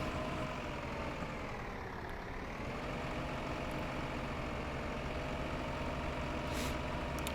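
Tractor engine in the Farming Simulator video game, pulling a large trailer in the Sosnovka map, a steady low droning rumble with a slight rise and fall in pitch, continuous and fairly close throughout.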